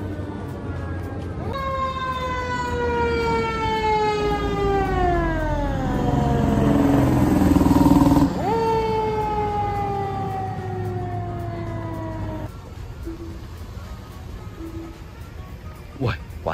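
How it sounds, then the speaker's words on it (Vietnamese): A fire engine siren wails loudly and sweeps up and down while passing on a California street. Its pitch drops midway as it goes by, then it fades, leaving a low road rumble. "Ô, xe cứu hỏa kìa."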